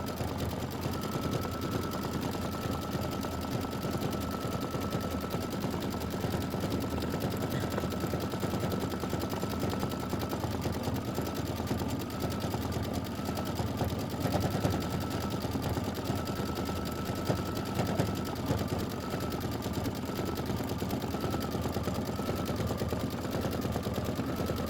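An embroidery machine stitching out a quilt block, a continuous rapid mechanical chatter with a steady whine, constant in level and close by, with no voices.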